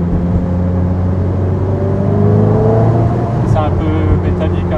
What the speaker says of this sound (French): Franchement Ferrari et Maserati c'est les plus beaux bruits.